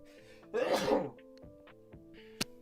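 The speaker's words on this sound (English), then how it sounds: "Gotta sneeze." One loud, close sneeze bursts out over a steady background hum, followed by a quiet sniff and a sharp small click.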